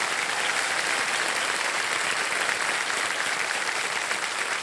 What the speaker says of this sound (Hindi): तालियां बज जाए कृष्णा अभिषेक जी के लिए।